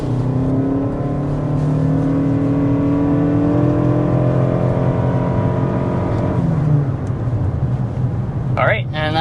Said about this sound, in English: that was 60 miles per hour with the Crown Signia. Pretty nice acceleration